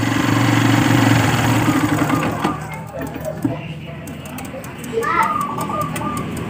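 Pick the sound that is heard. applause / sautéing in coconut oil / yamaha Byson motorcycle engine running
yamaha Byson motorcycle engine running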